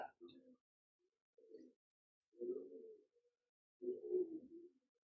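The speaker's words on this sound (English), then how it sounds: "You should really be able to hear those rock doves now cooing away" Rock doves coo softly in a quiet creekside woodland, giving four separate low, throaty phrases with silence between them.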